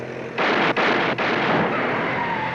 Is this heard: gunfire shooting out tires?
yes